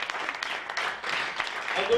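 An audience at a Christmas food bank fundraiser concert at The Refinery in Saskatoon claps steadily throughout, a continuous patter of applause with voices mixed in.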